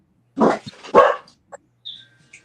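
A dog gives two sharp, close barks in quick succession, then a few faint yips and small sounds trail off in an otherwise quiet room.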